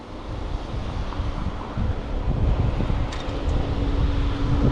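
Wind buffets a microphone during a bicycle ride outdoors in Japan, a steady loud low rumble that persists throughout with no talking.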